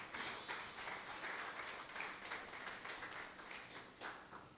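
A church congregation applauds and acclaims Jesus in a sustained, steady wash of clapping and cheering that stays fairly distant and even throughout, with no speech over it.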